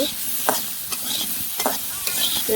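Vegetables and tilapia sautéing in a pan, with a soft continuous sizzle broken by rhythmic scraping stirs of a spatula about every half second, close and clear with no talking.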